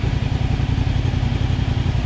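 CFMOTO 450SR motorcycle engine droning steadily while riding, a loud, continuous low rumble with a slightly rough, tractor-like texture and no talking.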